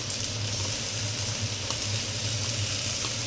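Yogurt goes into a sizzling spice paste in a pan for a doi katla fish curry, giving a steady close frying hiss with faint crackles and no talking.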